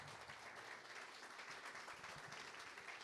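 An audience at the Bogotá book fair applauds, a steady, dense wash of clapping that sounds faint and distant throughout.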